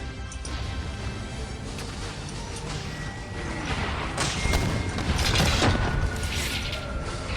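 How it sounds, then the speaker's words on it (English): Mortar fire and distant explosions in an Empire Total War battle, a dense rumbling barrage of booms and thuds that swells louder toward the end, with no talk. "I love the sound of the mortars as well."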